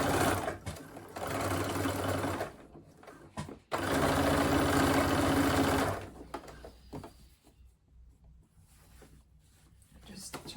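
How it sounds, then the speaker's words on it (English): A sewing machine stitches a dart on a handmade crossbody bag through two layers of fabric, running in two steady close bursts with a pause between and a quieter stretch after. "I'm just going to hold the dart in towards the middle while I sew."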